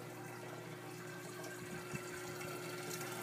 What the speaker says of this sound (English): You can see the return, water going across the pad.